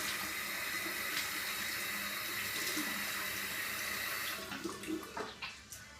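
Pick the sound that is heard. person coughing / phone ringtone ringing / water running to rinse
water running to rinse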